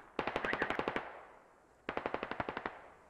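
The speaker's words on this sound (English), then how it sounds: "MRAPs are actually firing." Two bursts of machine-gun fire from MRAP armoured vehicles in the game Squad, each a rapid string of about ten to twelve sharp reports, separated by a short pause, fairly close and with no talk.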